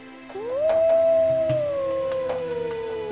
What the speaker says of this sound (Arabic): هيدا صوت ديب تاني عم يردوا على بعضهم.